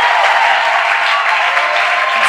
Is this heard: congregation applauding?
yes